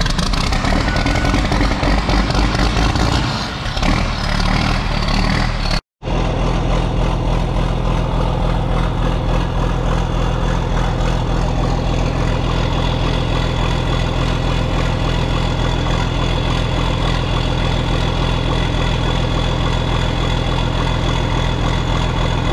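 A 4640 tractor engine cranks over, cuts out briefly, then catches and settles into a steady, loud, low-pitched idle close by that runs on without talk.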